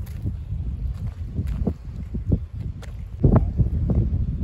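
Strong gusty wind blows across an open fishing spot, buffeting the microphone in uneven rumbling bursts that swell louder near the end, with no talking.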